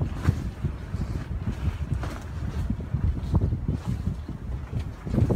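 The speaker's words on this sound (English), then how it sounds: "You can see how windy it is." Gusty wind buffets the microphone with a low, rumbling roar that rises and falls, no speech.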